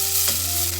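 Chopped bell pepper pieces land on garlic frying in a pan, a close, steady sizzle with a faint low hum and a soft brief thump partway through; no one speaks.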